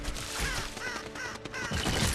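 A crow caws in a video game, its harsh repeated calls riding over a dense, loud bed of game sound that fills the whole short stretch.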